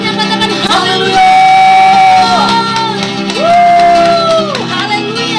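A church congregation cheers and shouts hallelujah together, a loud sustained roar of many voices with rising and falling sung cries over a constant crowd din.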